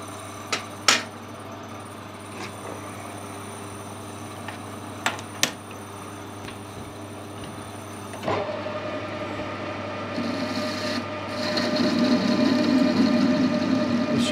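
Lathe squaring the end of an aluminium bar: a few sharp clicks and knocks during setup, then a motor spinning up and a steady cutting whine building louder toward the end, close by.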